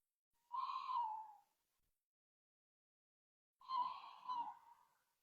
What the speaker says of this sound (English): That was a really strange noise from that bird.